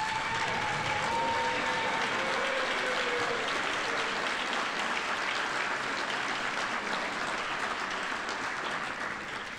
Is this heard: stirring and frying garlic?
no